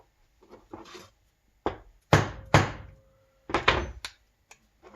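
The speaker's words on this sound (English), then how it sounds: "And use a rubber face mallet." A punch is struck with a rubber-faced mallet to knock holes in a Citroen carburettor gasket: a handful of sharp, close wooden thunks in an uneven rhythm, with softer rubbing sounds between them.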